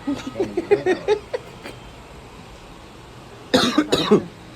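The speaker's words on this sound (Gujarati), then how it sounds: "ઉધરસ થઈ ગઈ" A series of harsh coughs in two bursts, the first several quick hacks, then a pause and another cluster of louder coughs nearby.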